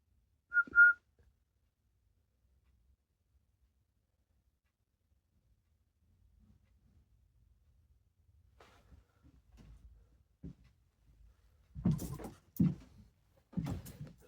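One short, clear whistle from a person in a basement, heard near the start. Long near-silence follows, then scattered faint knocks and a few louder thuds toward the end.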